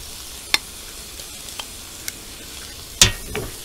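Eggs are cracked onto a hot flat-top griddle over a steady sizzle, with a few sharp clicks and one louder crack and splatter near the end.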